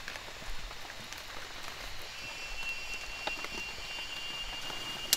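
Steady rain falling in a forest, a continuous close patter of drops on leaves and surfaces, fairly soft and even throughout with no voices.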